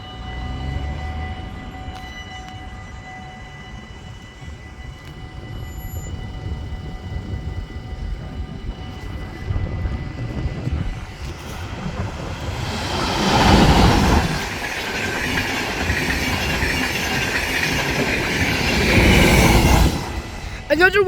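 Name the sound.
Dutch NS train at Oisterwijk station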